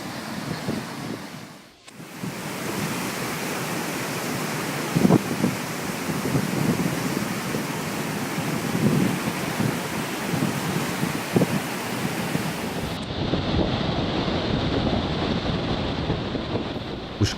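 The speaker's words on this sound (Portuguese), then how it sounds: "O mar em fúria volta a assustar" A stormy sea roars around Ilha Belmonte, a small Brazilian island near a lighthouse, with heavy waves and possible thunder blended into one loud, continuous broadband rumble, with no voices and an abrupt drop in the higher hiss near the end.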